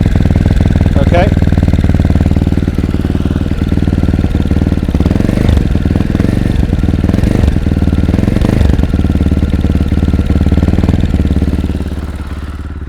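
A Fantic Caballero 500 single-cylinder motorcycle engine idles steadily and loudly with a low, pulsing thump and a mechanical whir, fading slightly at the end.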